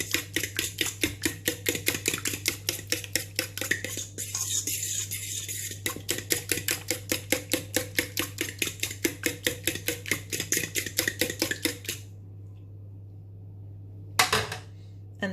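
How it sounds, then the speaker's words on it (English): A spoon beats briskly against a pot while stirring Jamaican cornmeal porridge made with coconut milk: a steady, fast run of close clacks and scrapes for about twelve seconds, then stillness broken by one brief knock, over a constant low hum. "Just give that a little mix."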